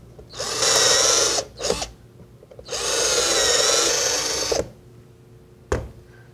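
A power drill bores shelf pin holes through a drilling guide in cabinet wood, with two sustained whining bursts of about a second each, each followed by a short clunk, and a sharp knock near the end, close and loud without talk.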